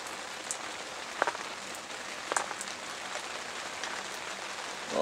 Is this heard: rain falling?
yes